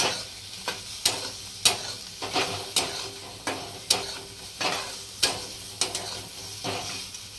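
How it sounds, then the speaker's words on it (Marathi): Onion frying in oil, stirred with a spoon: a steady sizzle punctuated by regular scraping strokes against the pan about once a second, close and moderately quiet, no voices. "कांदा हलवून घ्यायचा"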